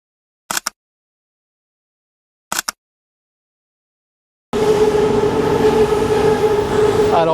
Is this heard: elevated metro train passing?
yes